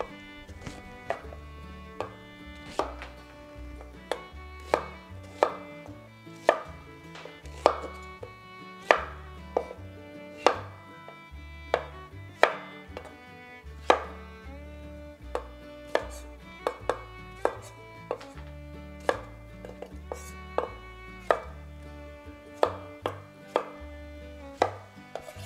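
A knife chops carrots, onion and other vegetables on a cutting board for beef borscht, with steady, crisp, evenly spaced cuts close by over a low musical backing.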